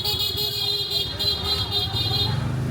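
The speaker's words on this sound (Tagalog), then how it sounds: "Sorry sa busina guys." A car horn sounds in a sustained honk over street traffic and engine rumble on a busy street in Hanoi, Vietnam, fairly close and loud.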